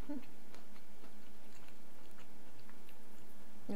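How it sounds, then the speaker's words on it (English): Quiet, close crunching bites and chewing of almond biscotti, a few sharp crisp snaps spread across a few seconds with soft mouth sounds between. "It's crunchy, but it won't break my teeth like some of the other types of biscotti."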